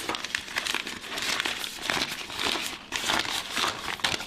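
Plastic icing piping bag crinkling close up as its top is folded over, a steady run of loud crackling rustles with no speech.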